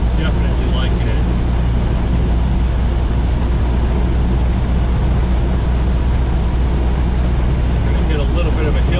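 A Ford Model A fitted with a Burtz block flathead V8 and a Mitchell overdrive climbs a hill. Heard from inside the car, its engine and road noise make a loud, steady, unbroken roar.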